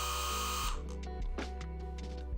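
A Shine Mate EB210 mini/macro hybrid polisher spins with a steady close electric motor whine and hum, its pitch dropping after a moment while a few light knocks and handling sounds occur.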